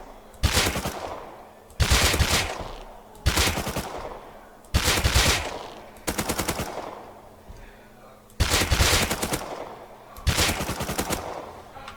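Automatic rifle sprays rip out in Rust, eight sustained bursts of rapid gunfire, loud and close, each lasting about a second with short pauses between.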